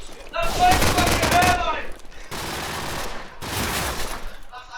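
Bursts of rapid automatic gunfire from wall bangs in a Counter-Strike-style LAN playoff match, three separate volleys of sustained shooting with short gaps between them, the first carrying some faint game effects on top.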